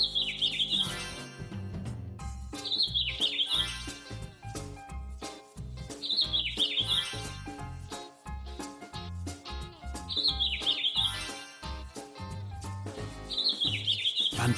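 Rainbow chicks in the Biggleton game chirp in repeated high tweeting clusters over bouncy cartoon background music, the bursts returning every few seconds.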